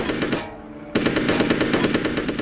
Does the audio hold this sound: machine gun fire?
yes